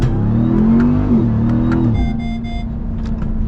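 A 2021 Ram TRX pickup truck engine roars and climbs in pitch as it accelerates hard, loud and close, with a steady exhaust drone.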